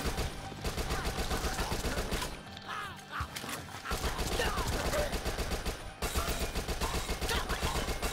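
Rapid rifle fire in the zombie shooter game Dead Nation, dense and continuous bursts of gunshots that stop briefly and then resume, loud and close with no voices.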